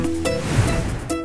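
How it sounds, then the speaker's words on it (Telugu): Heavy monsoon rain in a cartoon scene makes a dense, rushing wash of noise that holds steady and loud through the brief moment. "బయటంత వర్షం పడుతుంటే"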